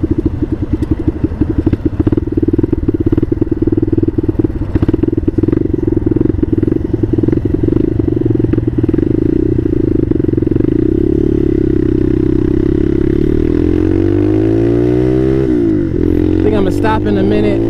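A Bashan Motomax 250 motorcycle engine runs loud and close throughout, steady at first and then dropping to a lower, rougher idle near the end, with a voice heard talking over it.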